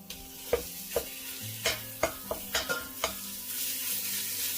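Ground beef and ground pork cooking in a pan for a homemade Bolognese: a low sizzle runs under repeated, irregular scraping stirs, about eight distinct knocks of a utensil against the pan, close and moderately loud, with no talking.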